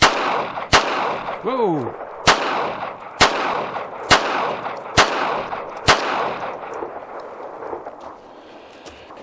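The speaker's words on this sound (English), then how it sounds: "I'm going to fire 6 rounds of the CCI Blazer brass case ammo" Six sharp shots from a Constable pocket pistol firing CCI Blazer brass-case rounds, evenly spaced and loud, each ringing off briefly, with a short exclamation from a voice between the first shots.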